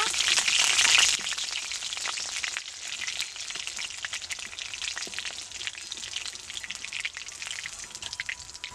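Tilapia pieces fry in hot oil for a Bengali fish curry with peas, a steady close crackling sizzle with a louder burst at the start that settles into continuous bubbling.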